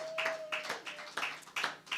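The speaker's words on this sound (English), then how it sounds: "let's give a round of applause for our own board member, Kathy" An audience at a community concert in a studio claps for a board member, scattered hand claps in uneven bursts, fairly faint, with a steady tone running beneath.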